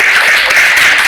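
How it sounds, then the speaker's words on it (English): A live improv comedy audience claps in a dense, steady burst of applause, loud and close, with no individual claps standing out. "a round of applause for yourselves"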